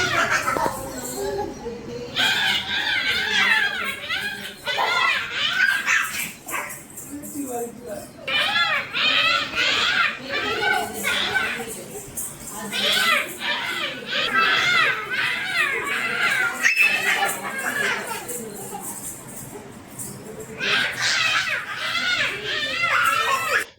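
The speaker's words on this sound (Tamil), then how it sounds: "பசங்க விளையாடுற வீடியோ இது வந்து ஒரிஜினல் கிளிப் ஆட் பண்ணுறேன்" Children play and shout at a birthday gathering, their lively high voices and chatter rising and falling in bursts throughout, fairly close and loud.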